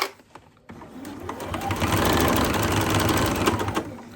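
A sewing machine stitches through layers of fabric on a makeup or pencil pouch, its motor speeding up into a steady, close whir with rapid needle clatter for a few seconds.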